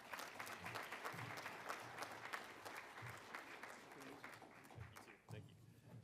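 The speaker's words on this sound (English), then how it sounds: "Everybody, please give a round of applause to Mr. John Hardister." An audience at a regional housing summit in North Carolina bursts into steady applause, many hands clapping continuously for several seconds before the sound tapers off.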